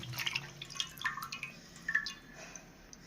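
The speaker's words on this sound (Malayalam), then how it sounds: "അപ്പോൾ തൊലി കളഞ്ഞ കായ നമുക്ക് ഈ ഉപ്പ് വെള്ളത്തിൽ ഒന്ന് നല്ലതുപോലെ ഒന്ന് കഴുകിയെടുക്കാം." Peeled plantains being washed in salt water: faint, sparse drips and light splashes of water in a quiet kitchen, scattered irregularly over a few seconds.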